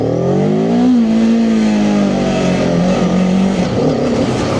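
Cyclone RC600 motorcycle accelerating in a parking lot, its engine loud and close, pitch climbing, easing off, then rising again through the gears with no talking.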